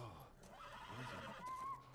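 A horse whinnies loudly with a rising, wavering neigh in The Last of Us, set against a busy game soundscape of hoof clatter and low rumbling background noise.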